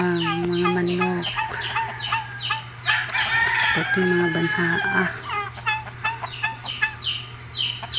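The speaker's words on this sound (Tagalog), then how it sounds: "Mao ni siya ang amo ang mga manok" Domestic chickens and a turkey kept as backyard fowl cluck and call in a busy, overlapping chorus nearby, with a person talking over the birds.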